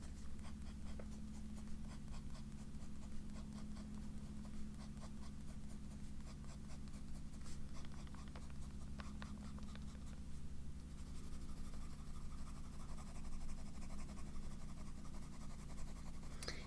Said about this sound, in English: I'm just gonna write vodka, and this is a broad nib.